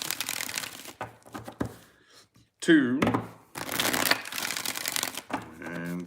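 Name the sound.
shuffling tarot cards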